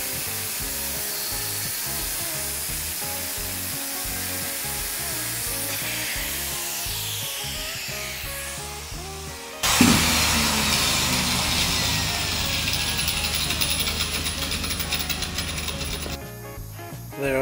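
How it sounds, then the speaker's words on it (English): A power tool cuts a section of steel in a welding workshop. Ratcheting mechanical clicks give way to a loud, harsh, continuous grinding roar close by. "Just about to cut this other section of steel to weld into this other container here."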